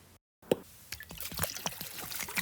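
Water drains from an irrigation pump and suction hose set up to draw from a pond, giving a scattered series of drips, plops and small trickles, close and fairly quiet, with a short silent gap near the start.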